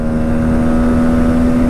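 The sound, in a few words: Bajaj Pulsar NS200 motorcycle accelerating through gears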